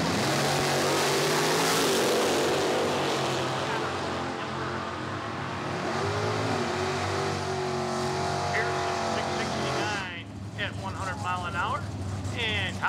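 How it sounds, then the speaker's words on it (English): A Camaro drag car at the IHRA Quaker City Sportsman Spectacular roars loudly down the strip as its engine note climbs and fades. An announcer talks over the noise, which drops away near the end. "Watch the Camaro."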